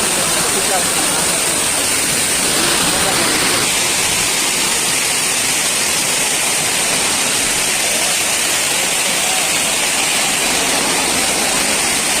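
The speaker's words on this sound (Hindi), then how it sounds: "देख सकते हो झरना ले पानी गिरत हवे" A waterfall pours in a steady, loud, broadband rush on a hillside village outing, its roar constant throughout with no breaks.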